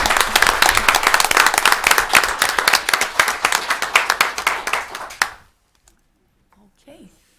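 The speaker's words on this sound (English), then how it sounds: "One more round of applause." A room of meeting attendees at a city sustainability advisory board session bursts into loud, dense applause lasting about five seconds, then fades abruptly into near silence with a faint murmur.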